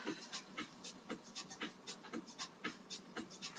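Deep, steady breathing during a relaxation exercise on a spiky massage ball, faint rhythmic inhales and exhales repeating every fraction of a second, close and quiet with no talking.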